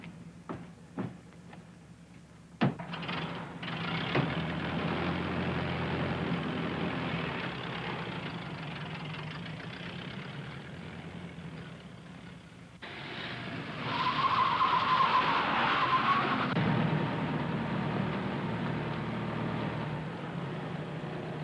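A 1932-era car idles with a steady engine rumble, then revs up and pulls away louder near the end, with no voices over it.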